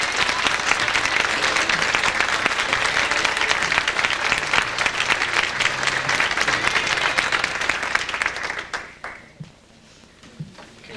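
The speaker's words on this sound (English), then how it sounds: "I just want you all to give them all a round of applause" A large audience claps loudly and continuously for several seconds, then the applause thins out and fades to near quiet at the end.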